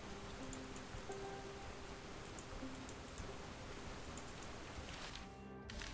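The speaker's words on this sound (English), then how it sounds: "is there still that soundbite of the rain?" Steady rain falls across the scene in the video game Stoneshard, a constant dense hiss with faint scattered ticks, even and unbroken throughout, with a brief dip near the end.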